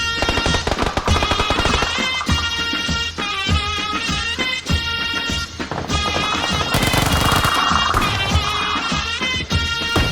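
Dense automatic gunfire and repeated shots from a multiplayer shooter match on a rooftop map, loud and continuous throughout, layered with game music-like tones and effects.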